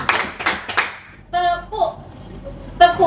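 A group plays a counting clapping game, with quick bursts of hand claps in short sets alongside voices calling out the counts.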